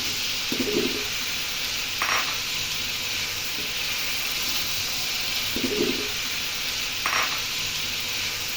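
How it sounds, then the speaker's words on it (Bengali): Cut potatoes frying in oil in the same pan used to brown chicken for a spicy Bengali chicken curry: a steady hiss with occasional louder bursts of stirring, no voices. "ওই একই প্যানে আমি কেটে রাখা আলু এক সাইডে দিয়ে ভেজে নিচ্ছি।"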